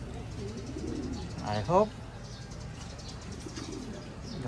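Pigeons coo briefly in a breeding loft, a short burst of low throaty calls under a person talking in Filipino over steady background noise.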